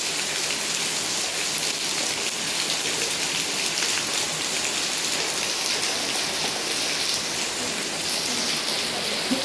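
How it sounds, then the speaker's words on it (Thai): Steady, heavy rain pours down at night in rural Thailand, a dense continuous hiss of drops drumming on surfaces nearby, unbroken throughout with no voices. "ฝนตกทุกคน"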